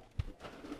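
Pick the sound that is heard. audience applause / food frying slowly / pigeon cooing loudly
pigeon cooing loudly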